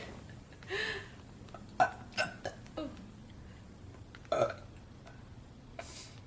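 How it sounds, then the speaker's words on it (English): Girls burp repeatedly, with several short, close, croaky belches spaced irregularly through the clip and quiet pauses between them. "don't burp on me."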